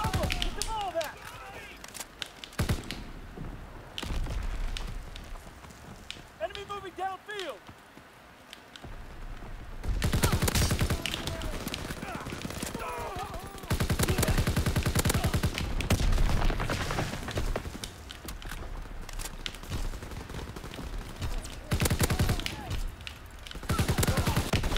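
Rapid gunfire bursts and sustained automatic fire crackle in a Call of Duty: WWII multiplayer match, with louder stretches of shooting between quieter gaps and players talking over the action.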